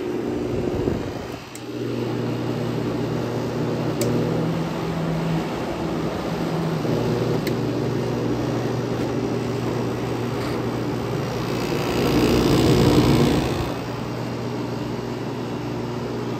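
A vintage room air conditioner starts up and runs with a steady, droning mechanical hum and whoosh, swelling briefly louder near the end, with no talking.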